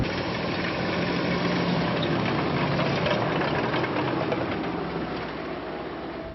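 A Buick Hellcat tank's radial engine runs in a steady, dense mechanical drone with a faint knocking texture, holding at constant loudness throughout with no voices.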